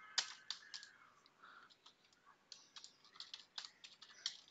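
Quiet, close computer keyboard typing while a host name command is entered in a Bash terminal: irregular light key clicks and taps in short bursts, with no one speaking.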